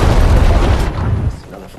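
An explosion sound effect in a Taliban attack on a guard post: a single loud, close blast with a deep rumbling tail that fades over about two seconds.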